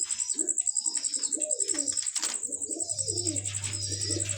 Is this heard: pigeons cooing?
yes